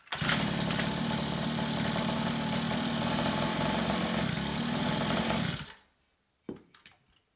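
A small pocket bike engine idles loudly and steadily with a buzzy drone, then cuts off, leaving a brief clunk and quiet.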